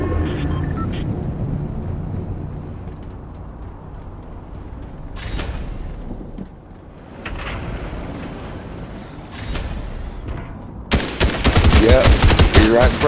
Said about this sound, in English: He's right in front of me. I'm shooting him.